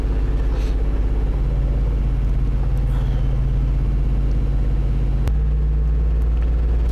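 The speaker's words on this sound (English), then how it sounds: "Let me raise the RPM and warm this up a little bit." A car engine held at raised RPM to warm up gives a loud, steady low rumble, with a sudden shift in pitch and a click partway through before it settles into a slightly higher drone.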